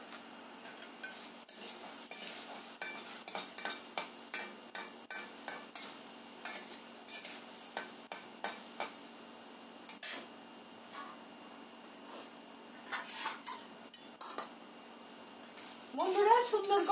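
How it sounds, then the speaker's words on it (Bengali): Small-cut potatoes frying in a pan for a dheki fern shaak bhaja, with repeated rhythmic scrapes and clinks of a stirring spoon over a low sizzle and a louder burst near the end. "সুন্দর করে আমার আলু ভাজাগুলি হয়ে যাচ্ছে"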